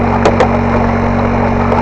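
A small outboard-type motor runs loud and close with a steady engine drone, including two brief rev-like spikes early on, without speech.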